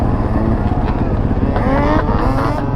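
Two-stroke motorcycle engine with an overflow gas tube sticking out, idling and revving loudly and close by at a lot, with a steady raspy drone that rises in pitch near the end.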